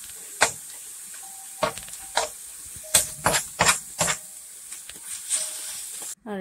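Leafy greens stir-fried in a pan, a series of sharp hissing sizzle bursts as the greens hit and are tossed, separated by quieter gaps, close by.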